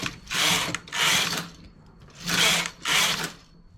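Knitting machine running carriage passes across rows of a baby bootee, four quick whooshing, rattling sweeps in pairs with brief pauses between, close and fairly loud with no voices.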